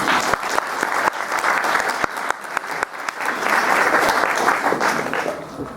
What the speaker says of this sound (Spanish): Demos un caluroso aplauso